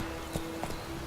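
Roach, the horse in The Witcher 3 video game, lands a couple of quick, close hoofbeats over a faint background hum, lasting only a moment.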